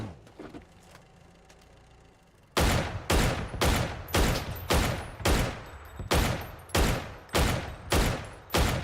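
In the video game PUBG, after a quiet stretch, a steady run of loud, evenly spaced gunshots rings out, about a dozen booming reports in a regular rhythm.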